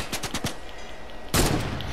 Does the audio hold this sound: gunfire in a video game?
yes